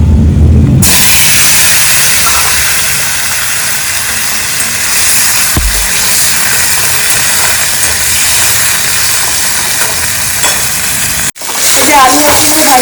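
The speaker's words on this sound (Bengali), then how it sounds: "আলু আর কুমড়োটাকে একটু ভাজবো আগে" Potato and pumpkin frying in a pan at a home kitchen in India, giving a steady loud sizzle and hiss that runs almost unbroken through the clip before a brief cutoff near the end.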